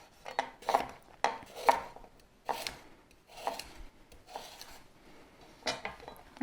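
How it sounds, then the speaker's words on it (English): Root vegetables being roughly chopped with a knife on a board: a series of irregular, fairly close thuds and knocks, spaced unevenly, with no talking. "And just sort of roughly chop."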